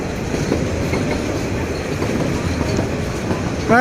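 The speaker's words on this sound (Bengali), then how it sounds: "এই যে মালগাড়ি যাইতেছে, চট্টগ্রাম থেকে আসছে, ঢাকার দিকে যাচ্ছে।" A freight train running from Chattogram toward Dhaka rolls past close by, a loud continuous rumble of wagons with steady clickety-clack and a brief wheel squeal at the end.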